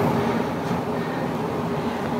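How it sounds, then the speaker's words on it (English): A very loud curtain is drawn across a room, making a continuous, dense rushing scrape that stays at an even level throughout. "our extremely loud curtain"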